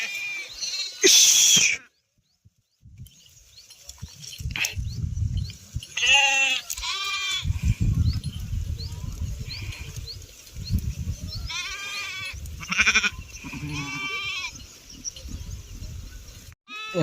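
Sheep grazing in a mulberry field after rain bleat repeatedly, several clear calls at varying distances over soft rustling and chewing, with a loud burst near the start.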